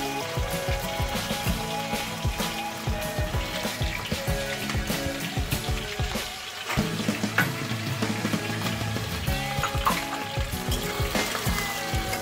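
Thick-cut onions frying steadily in a pan with garlic for a mutton curry with potatoes, a continuous crackling sizzle with small pops and clinks, close and unbroken.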